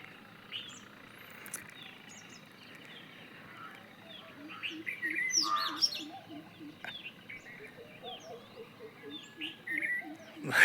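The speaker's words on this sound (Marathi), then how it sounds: "हे बघा आत्ता तिसरा पक्षी ओरडला" Several birds call and chirp in the open, with short tweets and a few louder calls scattered over a quiet background, growing busier toward the end.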